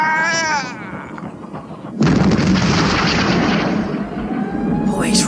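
Artillery firing, a sudden loud boom that breaks in after a short whining tone and rolls on as a long noisy rumble, with voices around it.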